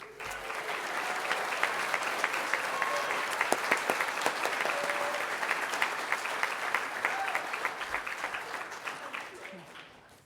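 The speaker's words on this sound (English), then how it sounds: "Can we get a round of applause?" Audience at a high school graduation ceremony applauding, sustained dense clapping that swells early, holds steady, then tapers off at the close, with scattered voices beneath.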